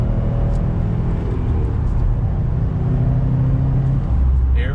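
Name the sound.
2020 Subaru WRX STI car accelerating out of a turn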